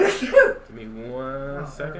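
A single sharp sneeze bursts out at the very start of a live storm-coverage stream, close and loud, followed immediately by someone talking.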